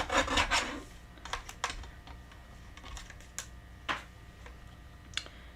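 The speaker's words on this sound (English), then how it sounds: "I'm going to cut my lattice to just slightly bigger." A paper trimmer slices through lattice paper in a few short rasping strokes, a quick burst of close scraping followed by scattered soft ticks and rubs, with no voices.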